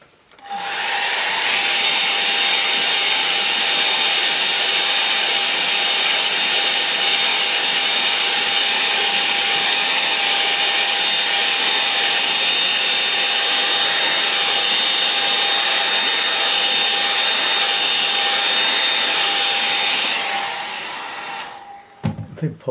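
A hair dryer blows steadily for about twenty seconds over a watercolour painting, a loud, even whoosh with a faint whine that cuts off abruptly at the end.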